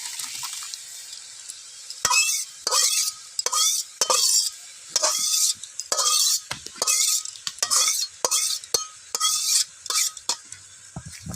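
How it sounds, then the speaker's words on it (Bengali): A spoon scrapes and knocks against a pot as desi chicken curry is served out, with about a dozen rhythmic, close scraping strokes over a faint simmering sizzle. "মাংসটা এবার আমি নামিয়ে নেব। তরকারিটা ঢেলে দেবো।"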